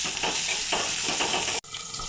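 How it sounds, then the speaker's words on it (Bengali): Dried kachki fish frying in soybean oil gives a loud, close, steady sizzle with a brief break near the end, with no speech. "এবার ভালো করে শুটকিটা ভেজে নেব।"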